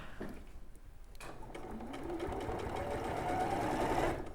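A sewing machine runs steadily as fabric is stitched for a polar bear appliqué hat trim, its whirring motor building and holding close and loud for several seconds with no talking.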